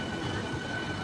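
A Howrah–Kharagpur EMU local train enters Ramrajatala station with a steady, close rolling rumble and faint high whine, continuous with no pauses.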